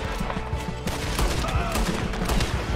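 A firefight in Red Dead Redemption 2, with dense overlapping gunshots in a continuous loud barrage that keeps going without a pause.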